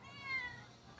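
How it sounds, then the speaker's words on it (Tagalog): A hungry stray cat gives one drawn-out meow, begging for food, heard close but fairly quiet against light background noise. "Yan, ang pusang nagugutom, sunod ng sunod sa akin."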